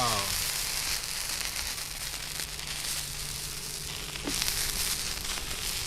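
A glowing 1000-degree blade sears into a zombie dummy with a continuous hissing sizzle, and a voice sounds over it now and then.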